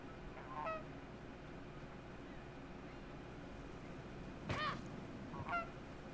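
Geese honking in the video game Knights and Bikes, a couple of short nasal honk calls spaced apart over a steady low background hum, fairly faint and with no one talking.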